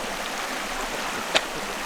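A freshwater stream fed by glacial rain and snow runoff flows in a steady, close wash, with a single brief splash or drip standing out near the end; no voices.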